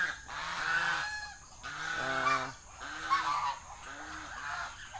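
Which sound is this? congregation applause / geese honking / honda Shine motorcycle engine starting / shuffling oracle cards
geese honking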